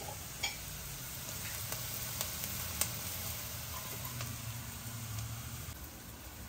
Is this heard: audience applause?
no